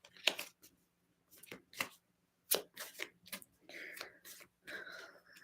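Tarot cards being shuffled close up in a quiet room, a series of short crisp riffling and tapping bursts with pauses between them, and soft faint murmuring in the background.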